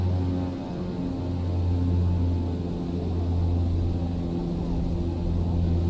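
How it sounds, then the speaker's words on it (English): Twin propeller engines of a Saab 340 turboprop in the X-Plane 11 flight simulator hold takeoff power as a loud, even, steady drone with a strong low hum and no talking. "Advancing takeoff power smoothly."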